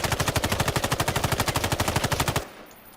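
MK18 rifle firing in the video game Islands of Nyne: a loud, rapid full-auto burst of evenly spaced shots lasting over two seconds, then cutting off into near silence with a brief tail.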